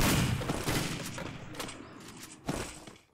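Dense bursts of video game gunfire, a rapid fusillade of shots that fades and then returns with a sharp volley near the end, loud and close with no voices over it.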